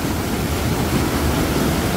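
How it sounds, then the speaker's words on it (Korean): Waterfall in a mountain valley stream at Hwaak Mountain, a steady, dense roar of rushing water that fills the whole two seconds with no pauses, loud and close, with a faint breezy hiss over the top. "폭포예요, 폭포."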